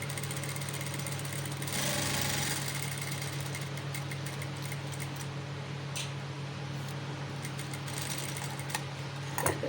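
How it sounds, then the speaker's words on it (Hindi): A sewing machine stitches a side pocket onto a men's kurta, giving a steady, close mechanical whirring drone that runs throughout, louder briefly near the start, with a few faint clicks. "थोड़ा सा आगे पीछे करके इसकी सिलाई करेंगे।"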